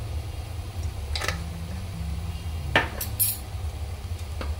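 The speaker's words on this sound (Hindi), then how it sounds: "ये सारे मसाले मैं मिक्स कर दूंगी।" Spices stirred into boiled potatoes for a village-style samosa filling in a pan, with a spoon scraping and clinking against the metal in a few short strokes over a steady low hum.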